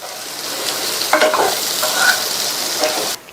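Potato and capsicum sabzi with chopped coriander leaves being stirred in a hot pan, an even close sizzle with a few spoon scrapes, cutting off abruptly at the end.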